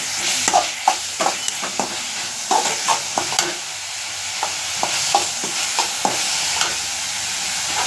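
Onions, green chilies and chopped tomato fry in a pan while being stirred, a soft steady sizzle broken by irregular scraping clicks of a spoon against the pan.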